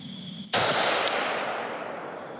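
A single loud, sharp gunshot fired at steel targets at night from a rifle with an X Vision KRAD night vision scope, its blast decaying slowly into a long echoing tail with a faint ring from the steel.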